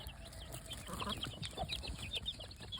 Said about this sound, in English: that's some of these older chicks here